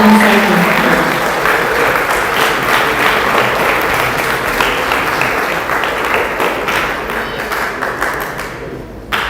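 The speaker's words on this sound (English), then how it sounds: "Let's give a round of applause for Gyani Ravindra Singh" A large audience applauds steadily and loudly at a Sikh talk event, a dense continuous wash of many hands clapping that holds for several seconds before fading slightly.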